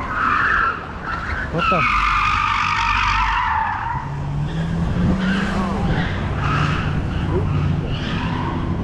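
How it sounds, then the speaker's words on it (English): Car tires skid in a long, loud screech during a car crash on a city street in Milwaukee, with the squeal shifting over several seconds. A man exclaims in surprise over it. "Fucking car crashes here in Milwaukee."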